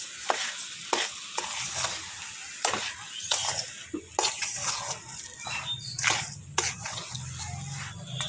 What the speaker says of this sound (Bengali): আবারও একসঙ্গে ভালোভাবে সবগুলো মিশিয়ে নেব।